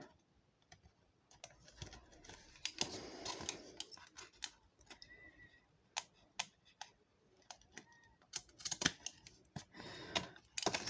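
Scissors cut paper for a handmade shaker card, giving close, quiet, irregular snips and clicks with occasional paper rustling and handling noise between the cuts.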